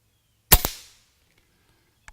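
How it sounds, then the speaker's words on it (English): A Condor SS .25 caliber air rifle fires a single sharp crack, followed an instant later by a second metallic smack as the pellet strikes a small metal spinner target, then a brief fading ring and quiet. "I'm shooting the littlest spinner target in the middle."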